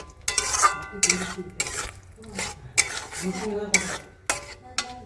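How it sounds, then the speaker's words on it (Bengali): Spice paste for an egg curry is stirred and sautéed in a pan, with repeated close scraping strokes of a spoon against the metal and a light sizzle between them. "দিয়ে ভালো করে কষাবো মশলাটা পাঁচ থেকে সাত মিনিট ধরে কষাতে হবে"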